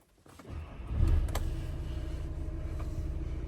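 A 2015 Seat Alhambra SE Lux 2.0 TDI 177 DSG diesel starts with a short cranking burst, then catches and settles into a steady, close idle rumble that runs on alone.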